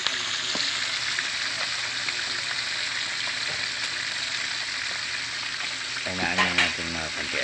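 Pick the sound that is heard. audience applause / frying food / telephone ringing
frying food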